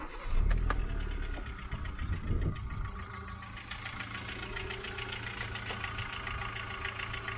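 A used car engine cranks and catches, then settles into a faint idle with a light metallic timing chain rattle running steadily beneath it.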